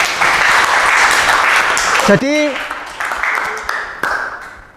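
A classroom applauds a student in a dense burst of clapping for about two seconds, then it fades as a teacher starts speaking.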